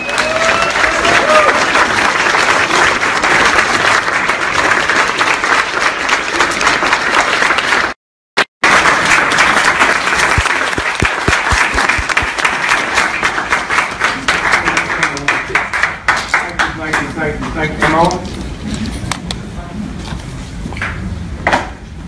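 A large audience gives a long, loud round of applause and a standing ovation for Dick Gregory at a 2017 talk, dense clapping filling the room with a brief cut partway through, then thinning into scattered claps and crowd murmur.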